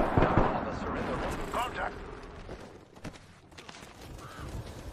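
Gunfire in the battle game Apex Legends, a loud dense burst of rapid shots up front, then scattered, sharper cracks and booms over a steady rumble of game noise.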